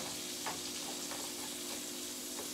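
Cabbage and carrots fry in a pan with a steady, close sizzle, a continuous bright crackle with a few soft stirring scrapes and no voices.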